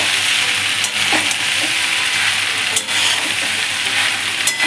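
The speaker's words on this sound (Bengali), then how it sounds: "একটু ভালো করে মিশিয়ে নেব।" Homemade egg pasta with tomato sauce is stirred in a hot pan, with a continuous sizzle and a few sharp scrapes of the spoon at intervals, close by and with no talk.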